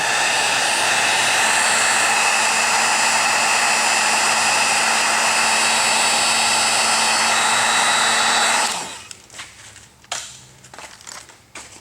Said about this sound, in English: To fix that, all we need is simply the heat gun, which I will plug in right now.